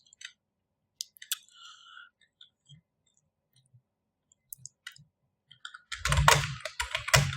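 Scattered key clicks from a computer keyboard, sparse and irregular, with quiet gaps and a denser burst of louder tapping near the end.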